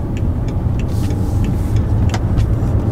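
BMW 550i sedan with a V8 engine, heard from inside the cabin as it accelerates: a steady, muffled low engine drone with road rumble, fairly loud and continuous, with no talking.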